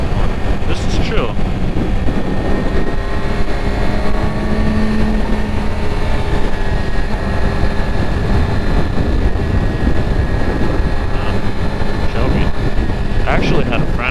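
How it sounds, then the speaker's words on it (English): A 2020 Yamaha R6 sport motorcycle engine drones steadily throughout as it rides through Angeles Forest canyon, its pitch shifting, with wind rushing over the microphone. "I definitely need to start riding a motorcycle through the canyon a lot more."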